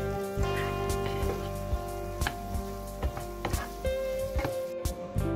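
Red pepper pieces added to a softened onion and garlic sofrito for a cottage pie, frying with a steady close sizzle and scattered small ticks and crackles throughout, no talking.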